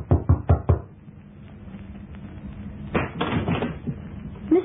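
Knocking on a hotel room door: four quick sharp raps up close, then a quieter stretch with muffled shuffling and a door-like clatter, and one last thump at the end.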